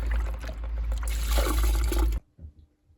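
Miele Professional WS5073 washing machine draining water with a steady gurgling rush for about two seconds, then cutting off abruptly, leaving a few faint drips and trickles.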